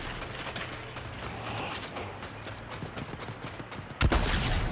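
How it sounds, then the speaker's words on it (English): A sniper rifle fires a single sharp, loud shot near the end, a headshot through a window in a video game, after a stretch of busy, continuous game noise with mechanical clatter. "I just headshot the guy through that window"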